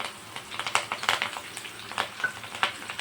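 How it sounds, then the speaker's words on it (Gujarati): Green chillies and curry leaves frying in oil over a medium flame, a soft steady crackle with scattered sharper pops rising and falling, fairly faint and heard alone. "મીડિયમ ગેસ ઉપર એ મરચાં અને લીમડાને તરવાના છે"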